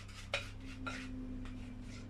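Spatula scraping creamy vanilla custard mixture out of a pan, a few soft rasping strokes against metal in an uneven rhythm, close but quiet over low background hum.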